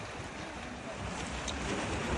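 Sea waves wash steadily at Ajman Corniche, a seaside fishing spot in the UAE, with a continuous broadband surf roar and wind buffeting the microphone, growing slightly louder toward the end, no voices.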